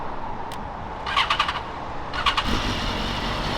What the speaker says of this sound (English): Real nice bike.